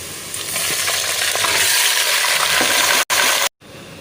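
Chicken pieces tipped into a pan of browned onions for chicken pulao set off a loud, steady sizzle and frying hiss that runs nearly throughout, broken by two abrupt gaps near the end.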